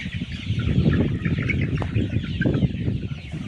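A flock of 48-day-old layer pullets clucking and murmuring continuously, a dense busy chorus close by with no voices.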